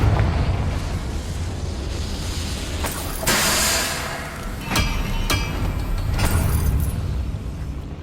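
Confringo blasting spell explosions in Hogwarts Legacy, a steady roaring rumble punctuated by several sharp bursting blasts, the largest a loud whoosh near the middle, with no talk.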